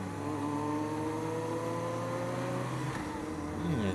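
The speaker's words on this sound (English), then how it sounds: "Yes, there's a motorcycle ahead of me." An engine drones steadily on the road, with a rising then shifting tone as the ride goes on, loud and close with no talk over it; motorcycles travel just ahead.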